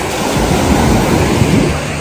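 Ocean surf rolling onto Butterfly Beach in Goa, a steady close wash of waves with some wind rumble on the microphone, brief and continuous, no voices.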